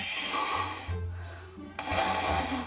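A voice imitates someone snoring on a bus: two long, loud nasal snore-like breaths, each followed by a short, quieter pause, close and alone without other speech.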